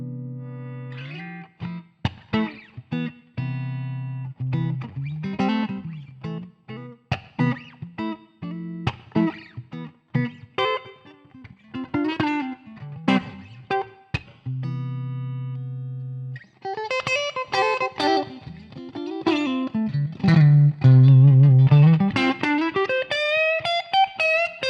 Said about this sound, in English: I'm loving that kind of clean tone coming from the Clean Machine 2 and the Pierce cabinet